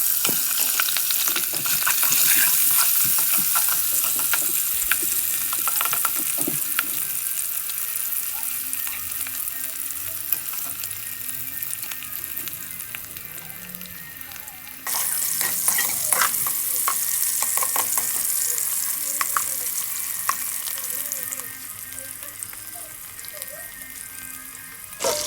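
Hot dogs sizzling and spattering in a small pot of hot oil, a steady bright frying hiss with occasional pops and stirring clinks that continues throughout, growing a little livelier partway through.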